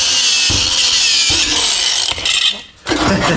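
A rubber hanger on a $35 Harbor Freight creeper is cut through with a tool, giving loud rasping, grinding strokes that stop and restart in bursts, with a brief lull near the end before cutting resumes.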